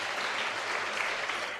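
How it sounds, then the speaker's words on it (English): Students clap for the PTA at a school lecture-series inauguration, with steady, dense applause from a crowd. It is fairly soft and distant and keeps going throughout. "Students, please give a big round of applause to the PTA."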